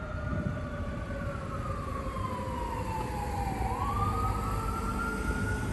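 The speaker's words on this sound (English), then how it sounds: "We've got an ambulance behind us." Ambulance siren wailing from behind on a city street in Lexington, Kentucky, a steady rising and falling tone held at moderate distance over low traffic rumble, with no talk.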